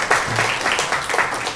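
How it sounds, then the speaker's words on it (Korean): Church congregation clapping together in a round of applause, a moderate, steady patter of many hands lasting the whole short moment. "우리 박수 한번 주실래요?"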